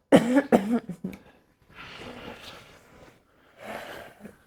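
Two or three sharp coughs at the start during a somatic energy healing session, followed by quieter breathy exhalations and throat sounds, close and fairly loud.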